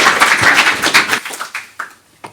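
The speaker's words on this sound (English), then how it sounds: "Round of applause for the lady." Audience applause for a woman at a clean air innovation competition briefing: a burst of many hands clapping that thins out into a few scattered, sharp individual claps before stopping.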